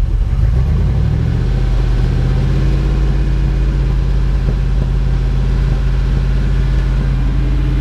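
A car engine revs loudly and steadily while its fuel system is being cleaned, a close, continuous rumbling roar that holds high throughout.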